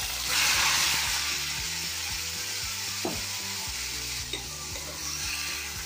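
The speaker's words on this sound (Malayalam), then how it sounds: "ഈ ബീഫ് ഞാൻ നെയ്യിലും നമ്മൾ ചേർത്ത എണ്ണയിലും ഒന്ന് ചൊന്ന് ഫ്രൈ ആവട്ടെ." Marinated beef sizzling steadily in ghee and oil in a hot pan, a loud continuous frying hiss with occasional scrapes of a stirring spoon, over faint background music.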